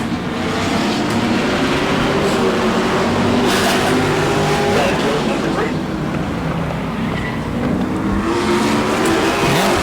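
A-Mod race cars roar continuously around a racetrack, a dense, loud engine drone with passing surges and no letup from start to end.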